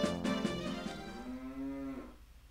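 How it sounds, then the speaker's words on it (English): A cow in the video game The Legend of Zelda: Majora's Mask gives a long, loud, drawn-out moo that swells and then fades away. "Oh my god, shut up, cow!"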